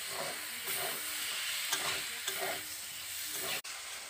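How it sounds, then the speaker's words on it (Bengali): Potato and soybean curry masala sizzles in a karahi after a splash of water, a soft continuous hiss and steam with gentle rhythmic stirring scrapes, fairly quiet and close, no talking. "আলু আর সয়াবিনটা কষিয়ে নিয়েছি, কড়াই লেগে যাচ্ছে তাই একটু অল্প করে জল দিয়ে দিলাম"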